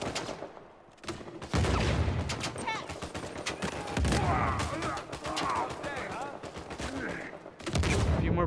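Rapid gunfire bursts from the video game Uncharted 4 in a survival mode firefight, loud and dense with repeated shots that pause briefly and then resume in sustained volleys.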